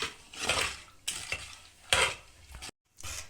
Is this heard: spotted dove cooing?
no